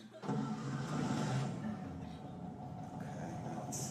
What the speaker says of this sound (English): I gotta start it up again